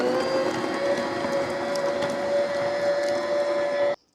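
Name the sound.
stand mixer beating butter until creamy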